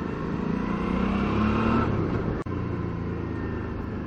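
A 2008 Suzuki V-Strom 650 motorcycle rides along a road, its engine a steady, loud rumble with rising revs and continuous wind roar, broken by one brief sharp click partway through.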